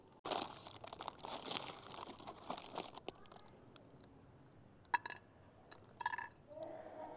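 Crisp crinkling and crackling as brittle sun-dried lentil dumplings are lifted off butter paper, busy at first, then scattered small clicks and rustles at low volume.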